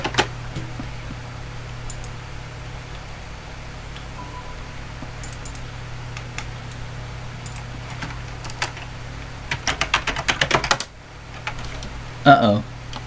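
Keys clatter on an old computer's keyboard during tinkering with a secondary hard drive, short bursts of close typing over a steady machine hum, with a quick flurry near the end.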